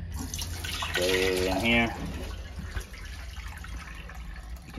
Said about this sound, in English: got my bowl of water, got my second bowl there to catch it, and we're just gonna pour it